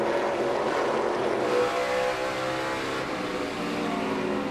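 A NASCAR race car engine heard from an in-car visor camera during a race in Canada, a steady loud drone with layered harmonic tones that dip slightly midway as the car waits to get back on the throttle.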